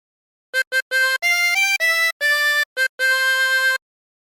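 Chromatic harmonica playing Pewdiepie's LWIAY theme phrase, a quick run of short, bright reedy notes followed by a few longer held tones, close and solo with no talk.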